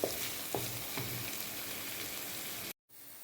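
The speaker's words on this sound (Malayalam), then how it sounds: "ഇതിനൊരു ഗോൾഡൻ ബ്രൗൺ ആവുന്ന വരെ ഈ ഉള്ളി നന്നായി വാട്ടിയെടുക്കാം" Onions and green chillies sauté in oil in a pan, a soft, steady sizzle with a few brief stirring scrapes early on. The sound cuts out sharply near the end, then returns.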